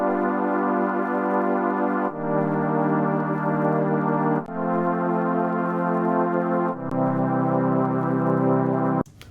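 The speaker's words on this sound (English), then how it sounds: "or you can create a chord progression yourself that sounds something like this." A chord progression made in FL Studio: four long, sustained synth chords in sequence, each held about two seconds with dense harmonic layers, loud and steady, no voices.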